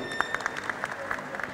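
An audience at a youth dialogue event in Bekasi breaks into a brief burst of light applause, with scattered claps standing out against a quiet room.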